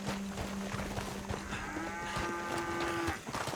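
Cattle mooing in the Red Dead Redemption 2 game, with a long low moo and then a rising, strained bellow over steady background ambience and livestock commotion.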